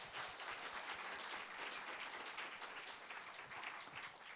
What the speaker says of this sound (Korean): 감사하는 마음에 뜨거운 박수를 보내드리겠습니다